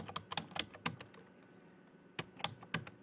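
A computer keyboard tapped in short clusters of close, crisp keystrokes, with a pause in the middle before another quick flurry, quiet and with no voice over it.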